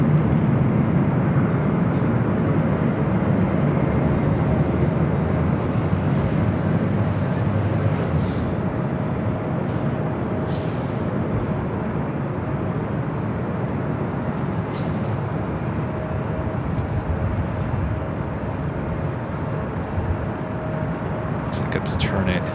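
Aircraft at Los Angeles LAX airport, including a Green Air Cargo 767-300ER, give a steady, continuous broadband roar that holds loud throughout, with faint higher-pitched whines and brief hisses layered over the rumble.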